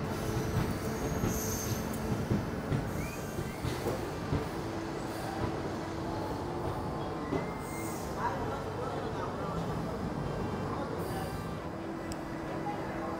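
A train rolls through Kamakhya station near Guwahati with a steady rumble of wheels on rails, brief metallic squeals and clatter. People talk faintly in the background.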